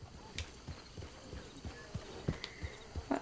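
Horse hooves clip-clop in a steady walking rhythm on the ground in Red Dead Redemption 2, close and fairly soft, with no speech over them.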